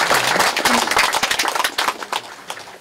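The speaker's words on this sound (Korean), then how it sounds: "예, 박수로." Members seated at an annual general assembly applaud, giving dense, continuous clapping that holds steady for a few seconds before easing slightly.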